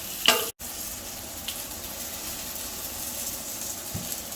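Bacon frying in a pan during weekly meal prep, a continuous even sizzle and crackle up close, with a short clatter at the start and a low hum underneath.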